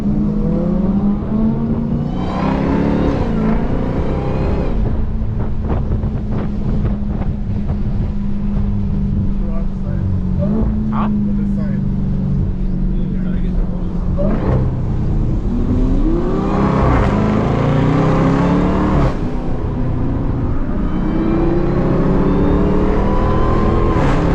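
A Dodge SRT Hellcat Durango engine drones steadily from inside the cabin while driving, with rising and falling revs under constant wind and road roar, and a few speech-like sounds in the background.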